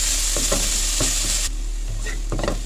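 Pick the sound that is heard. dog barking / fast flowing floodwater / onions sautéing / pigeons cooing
onions sautéing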